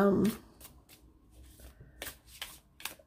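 A deck of Wild Unknown Spirit Animal oracle cards is shuffled by hand, giving a run of soft, papery riffles and flicks in uneven bursts, with a louder thump at the start and no talk over it.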